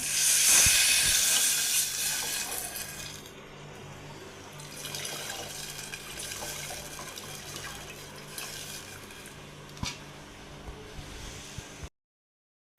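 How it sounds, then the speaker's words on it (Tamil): Tamarind-tomato water for rasam hits a hot pan with a loud burst of hiss and steam, then eases into a quieter, steady sizzle and bubbling that stops abruptly near the end. "இப்போ நம்ம வந்து கரைச்சி வச்ச புளி தக்காளி இதையும் ஊற்றிக்கலாம்"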